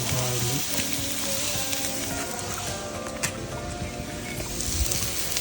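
Garlic sizzles and fries in a pan, a dense, steady crackling hiss throughout with occasional sharper pops and faint stirring scrapes, fairly close and without talk.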